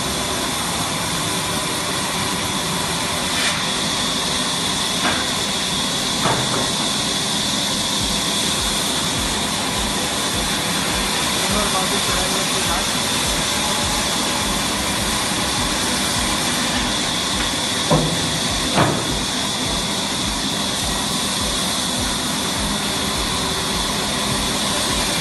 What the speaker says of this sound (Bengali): দেখো বন্ধুরা কিভাবে কাঠ চেরাই হচ্ছে।